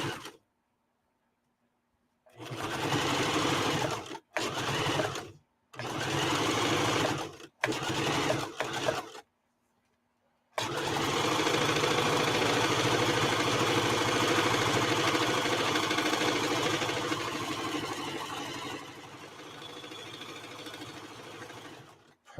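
Sewing machine stitching fabric in a series of short, loud runs separated by brief pauses, then one long continuous stretch of rapid mechanical whirring.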